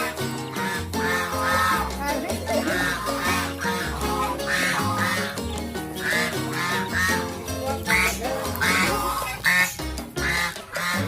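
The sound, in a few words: geese or ducks honking at a farm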